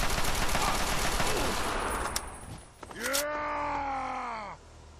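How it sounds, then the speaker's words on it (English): Bursts of gunfire in Fallout 3 rattle loudly in a dense stream, then give way to a low groaning, pitch-bending creature cry that fades out. "Not quite yet, because I'm still shooting you in the face."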